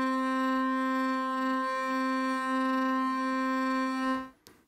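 A steady sustained arco string sample from Omnisphere, scratchy and traditional in tone, holding one bright harmonic-rich note for about four seconds alone before cutting off abruptly.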